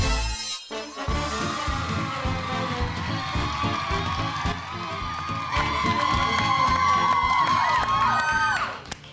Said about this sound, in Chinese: 听到这么热情的欢呼声就知道了